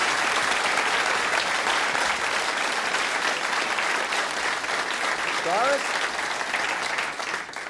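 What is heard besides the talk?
studio audience applause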